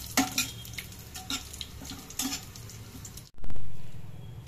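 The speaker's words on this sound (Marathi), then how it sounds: "तेल गरम झाल्यानंतर मी खोबरं घालून घेते." Grated coconut roasts in hot oil, giving a soft sizzle with short bursts of stirring and scraping against the pan, then a sudden cut to a louder, rising hiss near the end.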